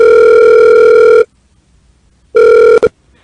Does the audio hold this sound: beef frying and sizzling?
no